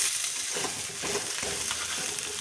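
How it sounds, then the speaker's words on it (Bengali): Fish head and tail frying in a spice paste for a Bengali fish curry: a constant hissing sizzle with soft stirring scrapes, close and even, no voices. "তো এখন আমি মাথা আর লেজটা দিয়ে দেবো। দিয়ে আর একটু সুন্দর করে নাড়িয়ে চাড়িয়ে নেব।"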